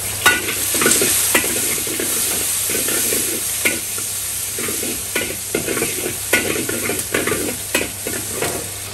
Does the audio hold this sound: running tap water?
no